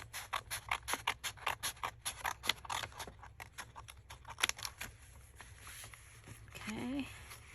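Scissors snip through envelope paper in a quick rhythmic run of crisp cuts, close and fairly quiet, slowing toward the end as a voice murmurs faintly.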